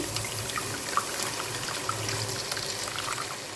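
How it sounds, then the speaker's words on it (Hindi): Lassi poured through a strainer into a pot for kadhi pakora curry, a steady soft trickle and splash of liquid running throughout, moderately close with no talk. "अब इसमें मैं डाल दूँगी लस्सी जो मैंने तैयार करके रखी थी, और इसको मैं छान के डालूँगी।"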